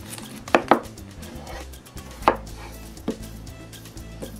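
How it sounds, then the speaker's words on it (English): Peeled potatoes chopped on a board with a knife for boiling, a handful of sharp, uneven thuds at close range with quiet gaps between them, and no one talking. "For potatoes, then you peel them, you cut them"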